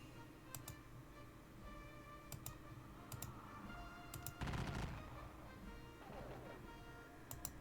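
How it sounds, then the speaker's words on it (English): Musket volleys from Grenadiers in a Napoleonic battle video game, heard as sharp scattered cracks and a denser burst of fire over a low ambient bed, fairly faint. "The Grenadiers will keep exchanging fire there."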